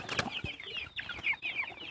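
Pin Khiri and Yok Khiri chickens, a flock of around twenty, clucking and calling nearby in repeated short, high squawks over soft background noise.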